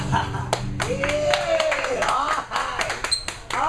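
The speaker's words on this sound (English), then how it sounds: "a round of applause for Thom, the world poet." Scattered claps from a small audience at an open mic night, light and uneven rather than a full ovation, mixed with voices and a rising whoop.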